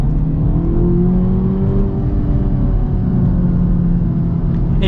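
A 2024 Acura Integra Type S driven on the road, its engine giving a steady, loud, continuous hum with slowly rising and falling pitch and no talk.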